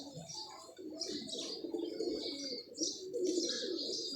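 Pigeons coo softly and repeatedly at close range, with a few higher chirps mixed in over quiet background.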